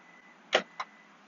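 Hands-free smart trunk release on a 2020 Hyundai Sonata Limited 1.6T, a close mechanical thunk of the latch followed by a lighter second click, brief and alone against quiet background.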